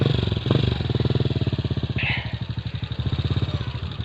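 A motorcycle on the road approaches with a steady, pulsing engine putter that stays close and fairly loud throughout, with a brief voice heard partway through.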